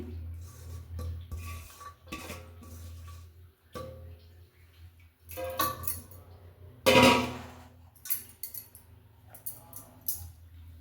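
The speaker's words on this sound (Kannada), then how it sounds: "ಇವಾಗ ನೋಡಿ ಸೊಪ್ಪನ್ನು ಹಾಕ್ಕೊಳ್ತೀನಿ ದಂಟು ಗಿಂಟು ಎಲ್ಲ ಮಿಕ್ಸ್ ಮಾಡಿ ಹಾಕ್ಕೊಳ್ತಾ ಇದ್ದೀನಿ" Basale greens with their stems tossed into a pot of sambar and stirred, giving scattered clinks and scrapes of a utensil against metal, with one loud clattering knock midway and softer rustling stirs around it, no talk.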